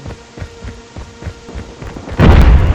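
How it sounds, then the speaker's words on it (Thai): Several soft, rhythmic thuds, then a sudden loud booming video game explosion near the end that rumbles on. "เสียงระเบิด"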